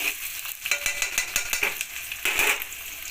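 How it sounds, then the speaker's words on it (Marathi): Onions frying in a pan for khichdi, a steady bright sizzle with brief scraping and clinking stir sounds at a regular rhythm, close and fairly loud, with no talking. "आता मी टाकते कांदा हे कांदा इथं मी दोन ते तीन कांदे घेतलेले आहेत खिचडी भातासाठी कांद्याला पण छान असं फ्राय करून घ्यायचं"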